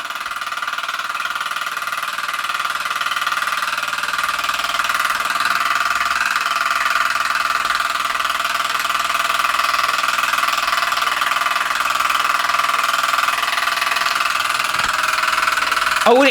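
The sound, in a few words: Mersey Model steam engine running with a knocking racket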